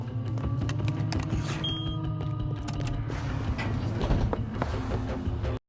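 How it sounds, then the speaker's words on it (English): An elevator door in the TV show Severance slides shut with a mechanical creak and clatter, a steady low mechanism hum running beneath it, close and moderately loud with no talk. "that elevator door shut fast"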